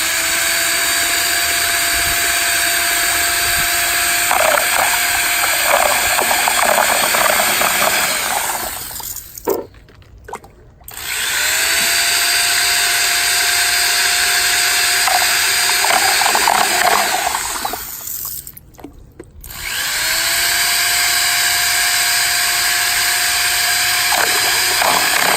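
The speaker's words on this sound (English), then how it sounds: "Stirring these up to make sure the bleach is all mixed in good." A power drill with a mixing paddle churns sugar water and bleach in 5-gallon buckets for feeding honey bees, a loud steady whine running for long stretches, cutting off twice briefly and restarting.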